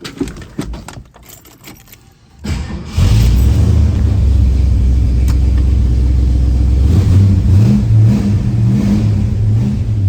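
A 1970 Ford Mustang fastback engine cranks briefly after some quiet handling noise, then catches and settles into a loud, rumbling idle with a few throttle blips, close and alone with no talk.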